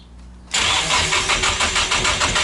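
A Nissan S14 car engine cranks and catches abruptly, then settles into a loud, steady idle with a slightly pulsing rhythm, close up and with no talking.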